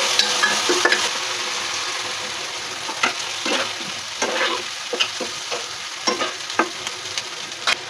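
Mustard and green chili paste fries in a pan with a steady, bright sizzle, punctuated by repeated scraping and stirring strokes of a spatula, close and continuous with no talking.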